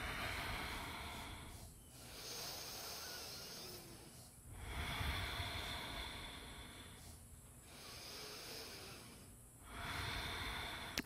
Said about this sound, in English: Breathe here.